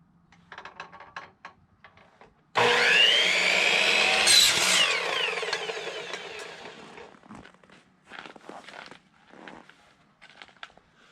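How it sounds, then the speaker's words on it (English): PVC pipe being cut at a 32-degree angle with a power saw, a loud whining cut of about five seconds that tapers off, with quieter handling noises and clatter before and after. "the next thing we need to do here is cut the PVC pipe"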